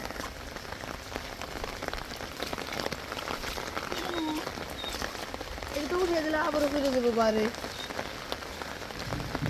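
Rain falls steadily on surfaces outdoors at a farm, a continuous pattering hiss that thickens toward the end, with someone speaking over it.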